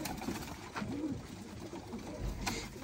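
Pigeons, including a black Chinese hen, coo softly a few times against a faint, noisy background.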